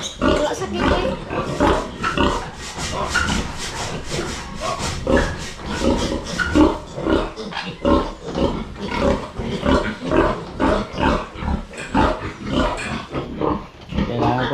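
A boar grunts and snorts on a farm in a continuous, loud, close series of rough rhythmic grunts lasting throughout, with no talk over them.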